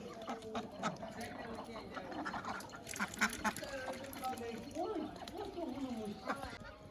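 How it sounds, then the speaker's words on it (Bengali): Ducks quack in a busy, overlapping chorus while being fed rice, close by with a splash of water, and a person talks over them. "তোর হাঁস আইছে রে"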